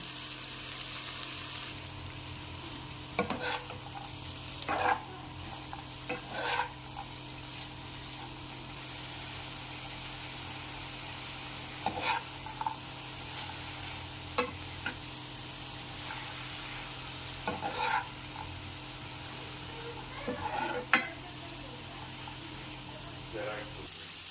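Green peas and fenugreek leaves sizzle faintly in a pan, broken by a few sharp spoon scrapes and clinks as they are stirred, with someone speaking over the cooking.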